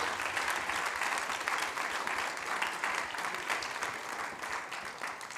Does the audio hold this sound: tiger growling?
no